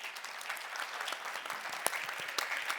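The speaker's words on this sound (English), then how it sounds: "Like a real round of applause for the panelists." A small audience claps for conference panelists, a brief, steady round of applause of moderate loudness with no one speaking over it.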